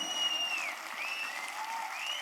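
An audience at a Hindi comedy poetry gathering breaks into steady, sustained clapping, a dense wash of hands continuing evenly throughout without voices standing out.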